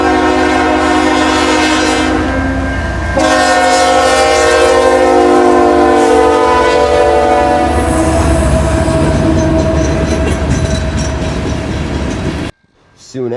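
A CN freight train passes close on the Madison line outside a Chicagoland yard on the East Side, its horn blaring loud and sustained in long blasts over the heavy rumble and clatter of rolling cars, ending abruptly.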